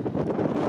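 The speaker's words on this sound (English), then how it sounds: "it's quite windy up here in the minute, so you might just have to bear with me" Strong wind buffets a microphone on the open upper deck of a multi-storey car park at Luton Airport, giving a brief, loud, continuous rumbling roar with no other sounds.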